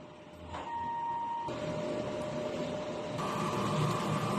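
A DTF printer runs a print head cleaning cycle, giving a steady close whir with a thin pump whine, a sudden shift in motor tone partway through and another step up near the end, with no talking.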